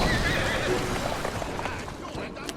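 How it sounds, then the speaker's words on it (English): A horse whinnies in the game Assassin's Creed Syndicate, a fairly close, sustained neigh with street and gameplay noise behind it and someone speaking over part of it. "Who's a good horse?"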